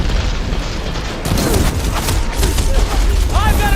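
Heavy gunfire in the video game Horizon Forbidden West, a loud continuous barrage of booming shots and rumbling blasts over a dense noisy battle mix, with a brief whooshing effect near the end.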